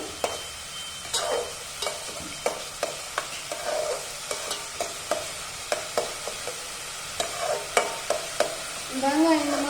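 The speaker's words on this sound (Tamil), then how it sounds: "வெங்காயம் நல்லா வதங்கட்டும்." Chopped large onions sautéing in a pan for veg salna, with a steady sizzle broken by repeated sharp clinks and scrapes of a stirring spoon, and a louder burst of frying near the end.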